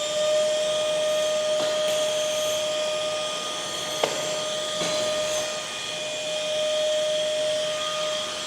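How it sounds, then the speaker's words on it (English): A cheap car detailing blower pushes air through its hose with a steady, loud hiss and whine that runs unbroken throughout, with a faint click partway through. "this thing can really blow something"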